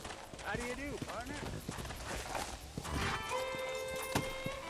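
Horse hooves clip-clopping along a trail in Red Dead Redemption, a rhythmic run of hoof beats under a voice talking and game music, ending with steady tonal sounds.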